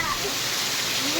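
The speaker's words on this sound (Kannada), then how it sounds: "ತುಂಬ ಮಳೆ ಬರ್ತಾ ಇದೆ." Heavy rain pours steadily at a garden estate, a dense broadband wash of falling water filling the short clip at close range, with no voices over it.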